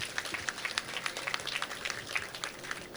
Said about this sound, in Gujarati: એકવાર જોરદાર તાળીઓ થઈ ગઈ